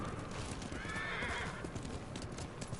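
A horse in the video game Ghost of Tsushima whinnies clearly over rhythmic clip-clop hoofbeats, set against a rainy, stormy wash of background noise.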